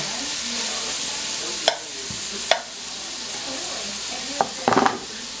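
Stirring shrimp and sausage creole in a pan: a steady sizzle runs throughout, punctuated by a few sharp spoon clacks against the pan, one near the start, one mid-way and a quick cluster near the end.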